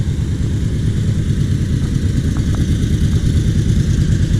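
A 1979 Chevrolet C3 Corvette engine idles a little fast at a steady, close, continuous rumble with a light clattery texture, running alone with no voices.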